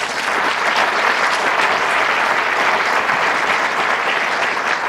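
A county address audience applauds Mayor Ben Walsh, steady, loud and even clapping from a large crowd filling the hall without a break.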